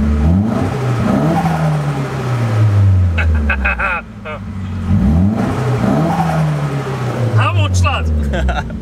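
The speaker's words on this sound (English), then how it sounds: "Can I rev it in here?" Nissan S14 engine revved hard in an enclosed space, several rising and falling rev sweeps close by, with people talking around it.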